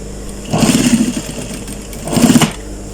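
A sewing machine stitching the elastic waistband of a pair of shorts, two short bursts of rapid close mechanical whirring separated by a pause.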